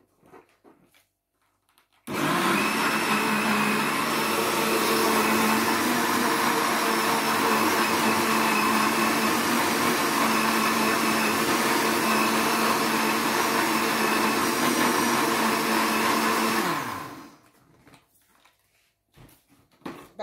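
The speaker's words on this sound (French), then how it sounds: "Et on va mixer. Voilà, je vais essayer de mixer." An electric blender whirs loud and steady for about fifteen seconds, mixing ingredients for an apricot tart, starting abruptly and winding down at the end, with quiet gaps before and after.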